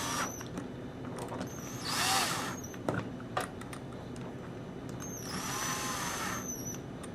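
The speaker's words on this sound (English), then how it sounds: "I'm going to use a DeWalt drill just to kind of speed things up a little bit." A DeWalt cordless drill drives small screws into a firearm receiver with two short whirring bursts close by. Light clicks and handling noise fall between the bursts.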